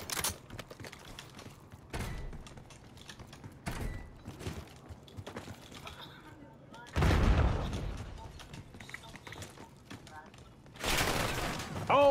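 Gunfire in a Black Ops 6 multiplayer match on the Core map, with bursts of shots and loud booming blasts spread across the scene while a player talks over the action.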